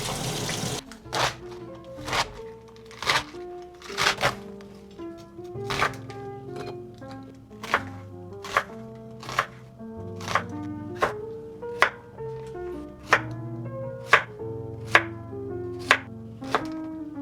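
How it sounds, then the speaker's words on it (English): Knife chops baby cabbage (알배기) on a cutting board in a kitchen, sharp regular strokes repeating steadily, close and clear, with some faint clatter between cuts. "Now it's time to cut all the veggies."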